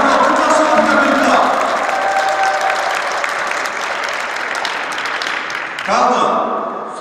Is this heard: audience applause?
yes